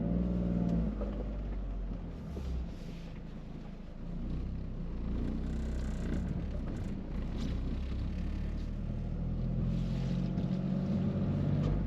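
Toyota GR Corolla fitted with a Cusco pitch mount, heard from inside while driving: a steady low engine drone and road rumble with pronounced vibration, its tone swelling and dipping slightly under throttle, with no talking.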